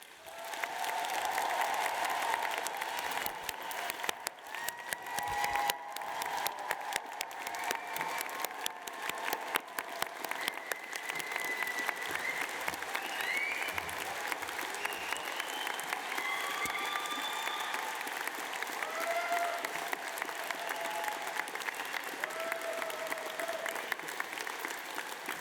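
Audience at a 2023 London College of Fashion graduation ceremony giving a long, sustained round of applause that fills a large hall, dense and steady with occasional cheers rising above the clapping.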